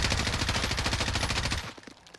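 An M4 rifle fires a fast automatic burst in Call of Duty Warzone, a loud, tightly spaced stream of shots lasting about a second and a half before cutting off to quieter trailing echoes.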